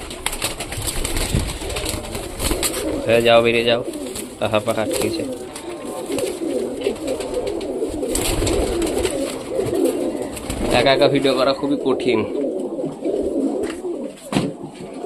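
Pigeons keep up a steady low cooing nearby while someone talks over them at intervals.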